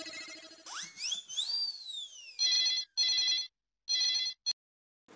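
A telephone rings in a comedy sitcom scene: a rising whistling sweep, then three loud trilling ring bursts with short gaps and a brief final chirp, with no voices.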